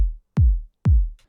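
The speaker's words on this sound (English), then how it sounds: "So we've just got a simple kick drum that's played on every beat." A simple kick drum with an EQ that scoops the mids, in an electronic track, hits on every beat: three deep, booming thumps with a falling pitch, evenly spaced and alone.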